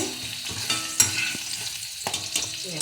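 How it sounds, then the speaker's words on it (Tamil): Pirandai (veldt grape) sautéing in a pan for chutney, a soft continuous sizzle broken by scraping stirs of a spoon against the pan, close and with no talk. "இது நல்லா வதங்கிடுச்சு பாருங்கள், நல்லா வதங்கிடுச்சு."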